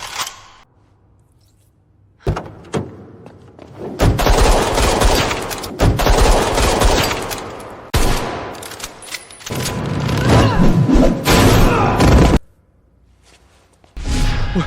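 Gunfire roars in long, dense bursts, a rapid fusillade of many overlapping shots with whooshing debris, broken by a few brief pauses and starting again near the end.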